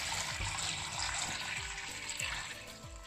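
Beans for akara being washed in water, giving a steady close sloshing and trickling with soft rhythmic swishes roughly every half second, no voices.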